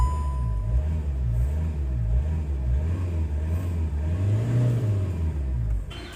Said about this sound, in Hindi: तो गाड़ी को कोल्ड स्टार्ट करते हैं।